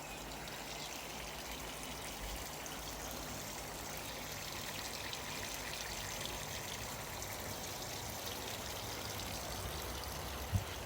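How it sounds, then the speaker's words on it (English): Water leaking from a garden hose or pipe and flooding a garden, a steady, faint trickling wash that holds level throughout with no voices. "Oh, flooding the garden, look."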